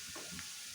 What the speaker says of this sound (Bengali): এর মধ্যে দিয়ে দিন এখন কিছু কালো জিরা ফোড়ন